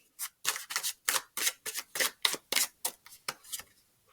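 Tarot cards being shuffled by hand, a rapid series of about a dozen crisp riffling bursts in an irregular rhythm, close and clear with no talk over them.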